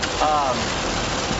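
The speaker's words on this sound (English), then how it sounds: "It's raining." Rain falling outdoors during a geocaching outing, a steady, fairly faint hiss throughout with a brief high tone near the start.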